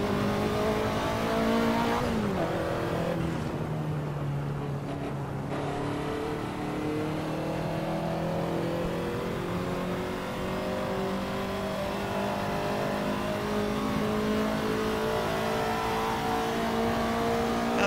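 A Ferrari 288 GTO in the racing game Assetto Corsa holds a loud, sustained engine howl, dipping briefly as it shifts and then climbing steadily in pitch under acceleration, with no voices.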